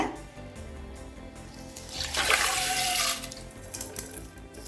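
Water is poured from a tap into a pot of soaked green moong, a splashing stream that swells to a louder gush in the middle before tapering off.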